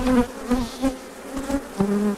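Honey bees buzz around an open hive while the colony is handled, a close, continuous drone that swells and fades as individual bees pass near, with no voices.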